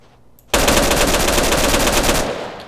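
Loud, continuous automatic gunfire in the survival game DayZ, a dense sustained burst of rapid shots lasting nearly two seconds after a brief quiet lead-in, then cutting off sharply.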